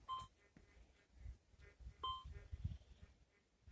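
Metal detector boundary signal during a ground test comparing a Rutus Alter 71 and a Fortuna M3: a few short, faint electronic beeps spaced irregularly over quiet low rumble and handling noise.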